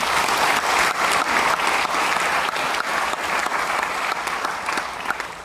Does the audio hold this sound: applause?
yes